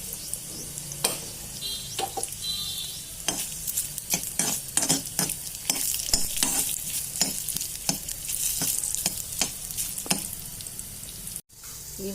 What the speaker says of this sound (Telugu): ఆ నూనె బాగా కాగిన తర్వాత ఆ నూనెలో పచ్చెనపప్పు, జీలకర్ర, ఎండుమిరపకాయలు,